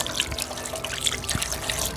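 Tap water runs steadily once a household motor pump starts, a continuous close splashing trickle with no voices over it.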